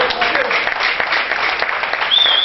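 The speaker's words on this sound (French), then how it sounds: "Ça mérite des applaudissements" An audience at a trophy award ceremony applauds a banker prize winner, a dense, steady wash of clapping from a full room that holds at even loudness throughout.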